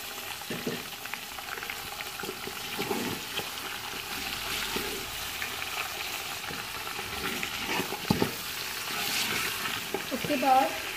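Beef nihari meat with garlic frying in a pot, a dense continuous sizzle and bubbling with spatula scrapes and knocks, close and loud, with no one speaking.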